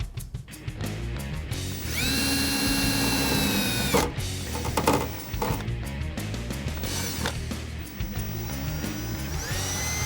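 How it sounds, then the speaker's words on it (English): A power drill bores a 1/8 inch pilot hole through an aluminum inner fender liner on a Jeep Wrangler JK, the motor whining steadily in a few close, loud bursts amid shop noise, with no one talking. "So now we're ready to drill a pilot hole. I have a 1/8 inch drill bit."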